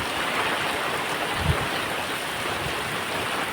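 Steady heavy rain pours down outdoors near a cattle shed, a dense, constant wash of falling water with no pauses and one brief thump in the middle.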